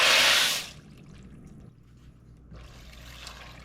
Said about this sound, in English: And the pasta goes in.